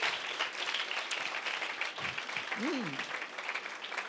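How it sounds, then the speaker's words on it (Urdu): A church congregation claps during a Hindi/Urdu sermon on prayer, a continuous patter of hands throughout, with a brief voice rising over the clapping partway through. "آپ نے تالیاں بجائی"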